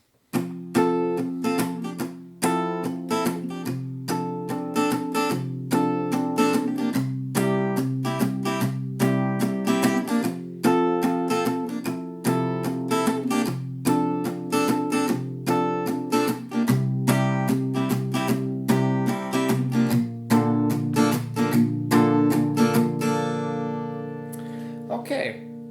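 Acoustic guitar strums and picks the first verse of a song, a steady rhythm of crisp chord hits played close and alone, ending on a ringing final chord.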